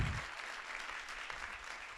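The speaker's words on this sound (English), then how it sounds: "I really appreciate that hand clap." Applause from an audience at an evening event on justice and decarceration: a dense, steady patter of many hands clapping for two seconds, moderately loud and somewhat distant in the room.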